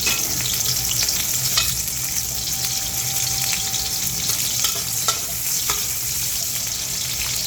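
Red onions sauté in a pan with a steady, close sizzle and hiss that runs the whole time, joined by occasional stirring scrapes and light clinks, with no voices.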